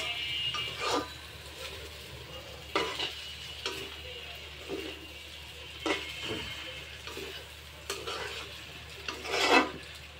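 Coriander leaves are stirred into noodles cooking with vegetables in a pan, a spoon scraping and clinking in repeated strokes over a soft, steady sizzle nearby.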